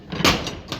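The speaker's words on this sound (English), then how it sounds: "we're gonna open up this door and let the heat in" A large farm shop door swings open with a brief scraping, rumbling slide that rises quickly and then trails into a second fainter clatter, close and fairly loud with no talking.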